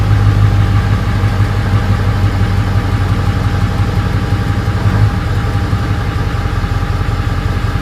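A car engine idles steadily right after starting, up close, with a deep low rumble and an even mechanical hum that holds constant, no talking.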